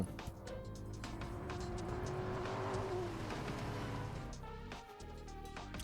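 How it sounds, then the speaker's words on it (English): A car engine in the video game Shuten Order revs and drives past, with a rising and falling engine note and a brief tire squeal, moderately quiet and mixed with game sound effects. "I heard Ku's car engine."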